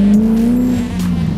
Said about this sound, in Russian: Мы едем без капота.